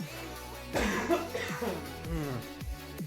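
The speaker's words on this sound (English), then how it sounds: "I got a cough." A person coughs several times in a row, close up, harsh bursts separated by brief pauses.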